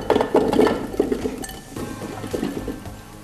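Small head of cauliflower dropped into the mixing bowl of a COBBO food processor, a few close clinks and knocks against the bowl with light rustling in a quiet kitchen.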